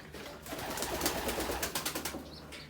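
Gök breed pigeons in a loft flap their wings in a quick run of soft beats close by, over a murmur of cooing and rustling from the flock.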